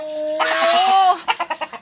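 A fighting rooster crows loudly and close by in one long call, then breaks into a quick run of short clucks.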